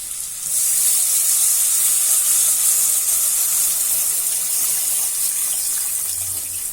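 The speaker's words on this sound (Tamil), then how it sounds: "நம்ம புளி தண்ணியை ஊத்திக்கலாம்." Tamarind water pours steadily into a hot pan for garlic pepper kuzhambu, a continuous close hissing splash and sizzle that runs unbroken from start to end with no talking.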